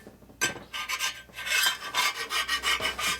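A file rasps across the machined case of a 1947 Harley-Davidson EL knucklehead engine, repeated close strokes of rough scraping in a rhythmic back-and-forth.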